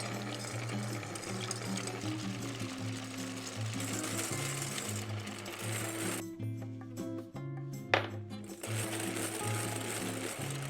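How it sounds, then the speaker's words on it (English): An electric hand mixer whips egg whites toward stiff peaks, a steady, loud mechanical whir that runs nearly throughout, with a short break and a clatter near the middle before the motor resumes. "I'm gonna mix these until stiff peaks and I'm gonna add the sugar little by little."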